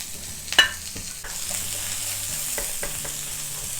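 Red onions sauté in a pan with oil rendered from pork chops, a steady soft sizzle broken by a sharp scrape and a few stirring clicks near the start.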